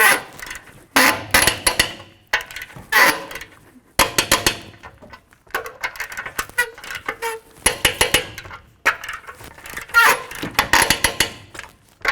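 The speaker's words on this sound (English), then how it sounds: "Now it's going to be time to get the wheel up on here. We're going to snug up the lug nuts" Metallic clanks, rattles and knocks in irregular bursts as a wheel is mounted and lug nuts snugged on a 2006-08 Dodge RAM, close and loud with pauses between.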